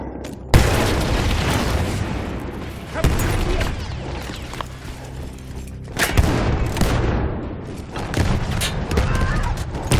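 Heavy explosions and booming blasts from a destroyed artillery gun in the World War I video game Battlefield 1, with several loud bursts and rumbling aftermath across the span, near and powerful.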